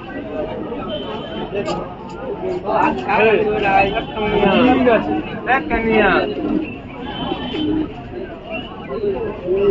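Asad line pigeons coo at a pigeon market. The soft throaty calls repeat close by and mix with constant talk and crowd chatter.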